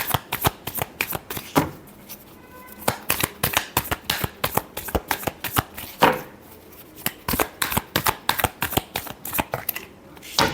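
Tarot cards riffled and shuffled by hand in rapid bursts of crisp flapping snaps, close and loud, repeating in quick rhythmic runs with brief pauses between.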